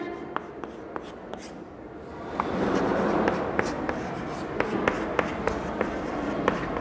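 Pen or chalk writing out a Class 7 maths ratio exercise, with a steady scratch and sharp repeated taps of strokes and dots, close and clear, without talk.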